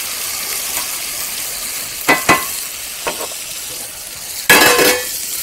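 Peas tumble into a pan of chicken over a steady frying hiss, with a few sharp clatters and a louder sizzling burst near the end, close and clear, without speech.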